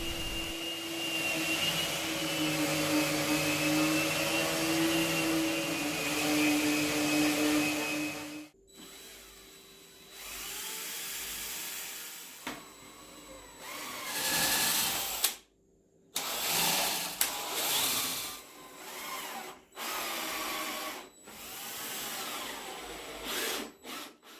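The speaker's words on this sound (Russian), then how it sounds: "Далее, после высыхания шпатлевки, шлифую поверхность." Sanding a wooden sofa frame after wood filler has dried, a whirring power sander that runs steadily at first, then cuts in and out in short bursts and scraping passes, close and fairly loud with no talk.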